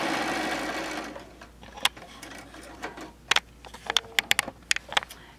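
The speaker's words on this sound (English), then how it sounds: "So we'll come in and we'll start stitching." A sewing machine stitches fabric after a short rushing noise at the start, then a run of quick close mechanical ticks and clacks that speeds up toward the end.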